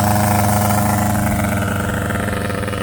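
A Raminator RC monster truck with a Taylor 80cc engine on its first run, the small two-stroke motor droning loud and close in a steady, buzzy note with slight wavering and no pauses.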